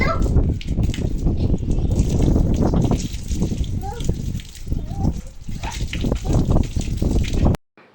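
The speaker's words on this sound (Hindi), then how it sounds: "क्लीनिंग के बाद ये दोनों खेलने लग गए थे पानी के साथ" Two children play with water after cleaning at home, a continuous near splashing, sloshing and gushing that runs for several seconds before cutting off abruptly.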